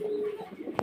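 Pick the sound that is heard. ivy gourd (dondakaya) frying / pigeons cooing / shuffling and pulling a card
pigeons cooing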